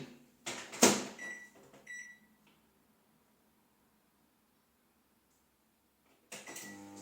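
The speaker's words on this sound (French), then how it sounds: "je vais donc le mettre au micro-ondes pendant 3 minutes" A microwave oven set to 900 watts being closed and started, with a door clunk and a few sharp button beeps close by, then near silence before the hum of it running kicks in.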